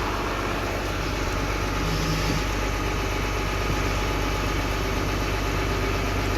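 A 12-valve swapped truck engine runs steadily at a loud, close, rough idle with constant vibration, no voices.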